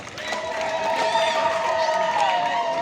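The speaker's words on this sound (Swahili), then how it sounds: "Asante, makofi mengi kwa baba." A church congregation at Kimara parish applauds a priest, sustained clapping and cheering from a gathered crowd, with a voice speaking over the applause.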